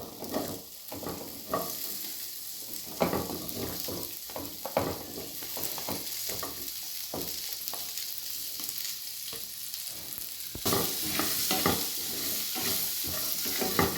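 Chopped onions sauté in a pan over low heat for a cashew paneer curry, giving a steady soft sizzle with scraping stirs and occasional clinks, moderately close, with no talking.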